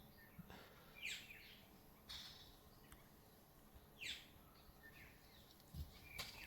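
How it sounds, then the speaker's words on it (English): Birds chirping at a campground in the early morning, scattered short calls repeating every few seconds, moderately distant and fairly faint over a quiet outdoor background. "You can hear like the birds chirping."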